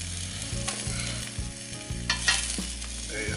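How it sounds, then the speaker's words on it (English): Salmon crackles and sizzles steadily in oil as it cooks in a Ninja Foodi XL Grill air fryer, with a low hum and a few soft clanks of cookware throughout. "Start hearing some sizzling going on."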